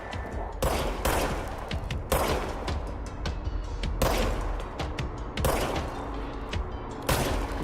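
Rapid gunfire rattles in the video game Control, loud repeated volleys with heavy thumping reports arriving in regular bursts about every second and a half over a constant din.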